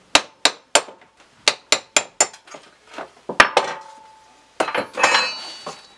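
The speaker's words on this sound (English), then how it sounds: "You should be able to take a pull punch and pop it through." Rivets being knocked out of a Jeep CJ7 cowl vent with a pull punch and hammer: a rapid series of about ten sharp, loud metallic hammer strikes, then scattered clinks and a rattling metal clatter, with no talking.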